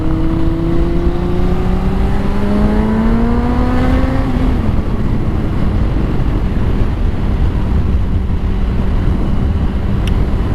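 Honda CBR 600RR motorcycle with an aftermarket exhaust, heard close as its engine pitch climbs through a rising rev and then settles into a steady loud roar.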